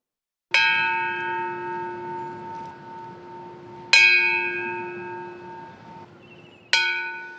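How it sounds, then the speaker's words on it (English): A memorial bell tolls at a ceremony on the Capitol grounds in downtown Raleigh, North Carolina, three clear, loud strikes a few seconds apart, each ringing out with a long, slowly fading hum and no talk over it. "That's some of the 179 times that bell tolled this morning for people in North Carolina who died on the job in 2021."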